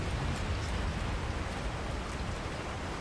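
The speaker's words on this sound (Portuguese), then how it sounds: "Tá chovendo pra caramba." In the video game Resident Evil 4 HD, dense rain falls as a constant hiss of pattering drops with a low, rumbling undertone, steady and unbroken, with no talk.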